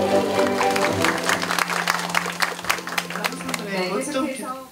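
Applause from an audience at the launch of a webtoon campus, clapping mixed with music or voices and crowd noise, fairly loud and fading toward the end.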